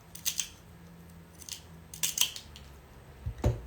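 Wheeled nippers snip small stone pieces, giving four or five sharp, close metallic clicks spaced irregularly, with quiet pauses between them.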